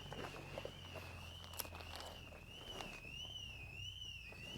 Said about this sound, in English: Noisy, annoying car alarm in the background.